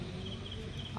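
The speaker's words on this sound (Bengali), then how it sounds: "ঝিঝি পোকার ডাক এইরকম নিশুতি একটা" Crickets chirp at night at a village resort in a steady, high, continuous trill, faint and far off against quiet surroundings.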